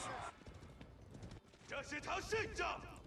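Horsemen cavalry charging in a real-time strategy game make quick, close clip-clop hoofbeats in bursts, with a speaking voice over the top.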